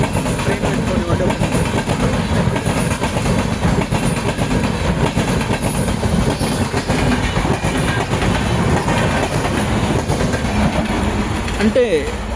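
Train rolling past close by with a steady, loud rumble and rail clatter throughout, a constant roar that drowns the surroundings while people talk beneath it.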